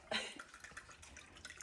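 Soy sauce poured out for a beef jerky marinade, a brief liquid splash at the start followed by faint, low-level trickling and dripping.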